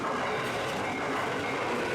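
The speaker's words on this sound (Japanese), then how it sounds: "先に通ったのはアーバンパークラインの下り列車" A Tobu Urban Park Line 8000 series train bound for Omiya passes through Kasukabe station, a steady loud rumble of wheels and rail noise filling the whole moment without pause.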